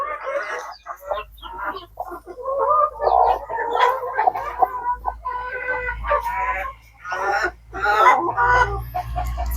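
A hybrid hen sitting on eggs she is hatching makes a run of close, fairly loud clucks and low throaty fowl calls in uneven bursts, with no talk.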